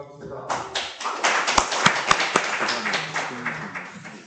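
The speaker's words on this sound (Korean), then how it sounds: "박수로 맞아주시기 바랍니다." Applause from the audience at a National Assembly policy meeting in Korea, a dense burst of close, uneven claps that swell and then fade, with a few sharp knocks and thumps and low voices murmuring underneath.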